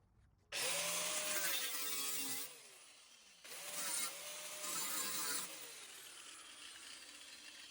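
A power tool cuts through a rusty exhaust muffler pipe under a Mercedes E500, in two loud close bursts separated by a short pause, the whine winding down at the end.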